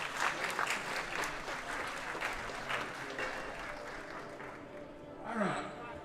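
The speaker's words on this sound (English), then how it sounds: "Give them one more big round of applause." Audience applause at a world classic powerlifting championship for junior 93 kg men, a sustained wash of clapping from a crowd in a hall that fades toward the end, faint and distant, with a voice rising briefly near the close.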